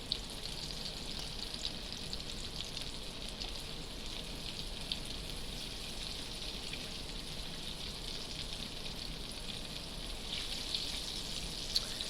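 Onion petals frying in hot oil give a steady, dense crackling sizzle that holds at an even level throughout, with occasional sharper pops and no voices.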